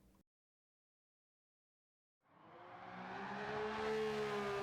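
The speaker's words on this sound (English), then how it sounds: "We are absolutely forcing this Ferrari 330 to drift how we want it to" Ferrari 330 P4 from 1967 drifting around Suzuka in Gran Turismo 7, its engine note rising loud and sustained with tire noise after a brief sound and a two-second silence.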